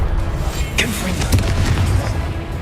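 Confringo explosive spell in Hogwarts Legacy: loud booming blasts and sharp bursts, two or three distinct impacts over a low rumbling bed, with a brief voice in the mix.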